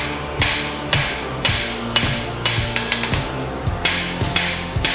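A blacksmith hammers hot metal to thin it under a straight-peen hammer, giving loud, evenly spaced ringing strikes, about two per second, close and alone.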